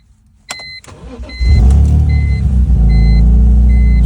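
A 2001 BMW M3 engine cranks and catches, then settles into a loud, steady, deep idle with a low rumble, exhaust cutout open, no talking.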